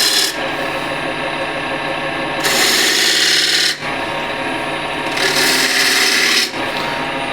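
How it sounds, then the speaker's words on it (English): Skew chisel cutting into a wooden apple spinning on a lathe, a steady rasping scrape that swells louder in two longer passes with brief pauses between. "With the skew, just slight undercut here for the jaws."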